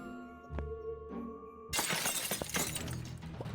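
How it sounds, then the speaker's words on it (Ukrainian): A glass window smashes in the Dark Riddle video game with a sudden loud crash and a spray of tinkling shards, following quieter game sounds and a steady tone. "А ну вікно розбите, чи він поміняв вікна?"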